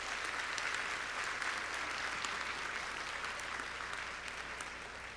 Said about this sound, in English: also deserve a very, very special round of applause